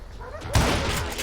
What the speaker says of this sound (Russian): двойным выстрелом один